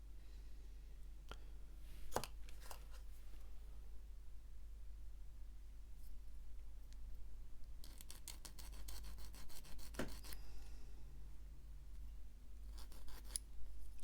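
Small snips of a cutter trimming a leftover nib from a plastic part of a 1/35 scale Challenger 2 TES tank turret model, a few sharp clicks and short rasping bursts, close and quiet, with no talking.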